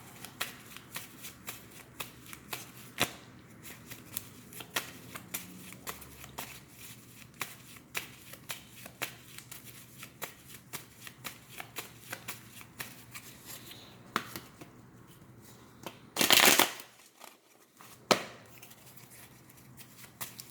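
A deck of tarot cards is shuffled over and over in crisp, rapid riffles and taps, close and fairly quiet, with a louder burst of card riffling near the end and no talking.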